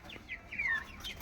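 A hen clucks nearby, giving a few short, rising and falling calls in quick succession over a quiet outdoor background.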